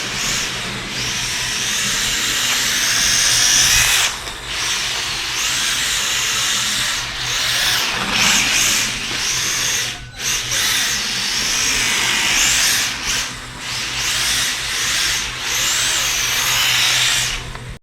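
Yokomo RC drift car with a DP-302 v4 gyro in normal mode, a continuous loud whining electric motor that surges and dips with throttle, briefly cutting out a few times, no talking.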